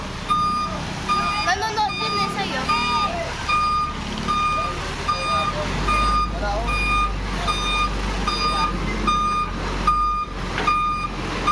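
A truck reverses along a busy road by a market in Taguig, sounding a steady series of sharp, evenly spaced reversing beeps over engine rumble and street noise, while people talk nearby.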